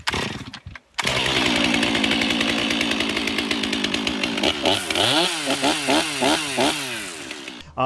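A chainsaw runs loud and close, idling steadily before being revved up and down in quick, repeated throttle bursts.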